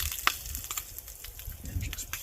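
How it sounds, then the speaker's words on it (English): Sausage and hash browns sizzle in a pan over an alcohol camp stove outdoors, a soft crackling hiss with scattered pops, fairly quiet and brief. "You can see we got a nice sizzle going there"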